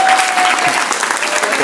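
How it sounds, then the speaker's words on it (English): An audience at a youth speech contest breaks into loud, sustained applause with dense clapping that fills the room throughout, and a few faint voices are mixed into the crowd noise. "Give them a roaring cheer as they come up."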